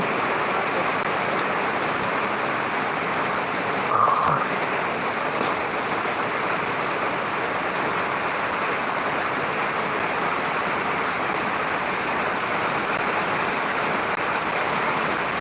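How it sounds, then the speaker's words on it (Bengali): Heavy rain falls in Bogura district amid gusty wind, a steady dense hiss that holds evenly throughout with one brief knock near the start. "প্রচুর বৃষ্টি হচ্ছে বগুড়া জেলায় বৃষ্টি এবং সাথে হালকা বাতাস ঝোড়ো বাতাস হচ্ছে"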